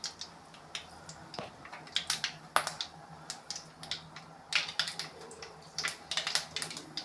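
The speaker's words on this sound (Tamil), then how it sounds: "கடுகு வந்து நல்லா பொரிஞ்சு வந்த உடனே" Mustard seeds splutter in hot oil, sharp scattered pops and crackles at an irregular rhythm, fairly quiet and close.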